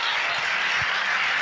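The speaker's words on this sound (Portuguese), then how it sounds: "Dê um aplauso a ele." A church congregation at a conference breaks into dense, continuous applause that fills the whole brief moment at an even, loud level.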